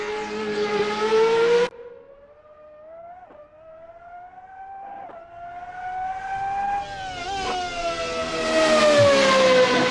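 Formula Beta 2008 race car in a racing video game, the engine's high whine falling sharply, then climbing steadily through gear changes to a loud screaming rev, heard from outside the car.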